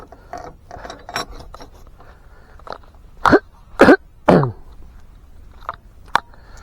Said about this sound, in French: je tousse parce que j'ai encore des glaires